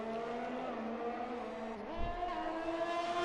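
Ferrari race car engine in a racing video game on the Baku circuit, a steady high-pitched whine that dips and climbs again with a gear change, heard alone at moderate level.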